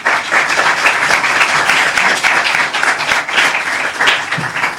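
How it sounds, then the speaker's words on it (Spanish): Loud, sustained applause from a conference audience honoring a speaker at an international bicentennial event, with dense overlapping claps filling the room evenly from start to finish. "agradecemos nuevamente con un fuerte aplauso a Javier Marión"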